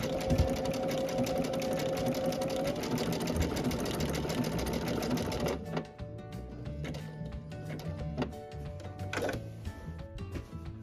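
A sewing machine runs steadily, sewing blanket stitch along the edge of a scrappy Dresden quilt block. It whirs densely for several seconds, then pauses and picks up again in shorter, broken bursts of stitching.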